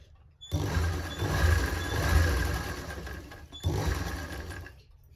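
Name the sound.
sewing machine stitching straight seam for thin cord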